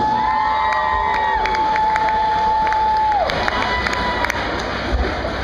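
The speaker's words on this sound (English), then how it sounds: "Everyone give these guys a round of applause." Crowd at an art convention piano auction cheering and shouting with some clapping, a lively roar of voices with a prominent sustained whoop running throughout the few seconds.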